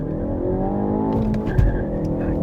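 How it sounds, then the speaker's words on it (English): A Ford Focus ST with a manual gearbox launches hard, the engine droning loud and close as the clutch slips and the tires briefly scrabble for grip, with no talk. "A little bit of wheel slip."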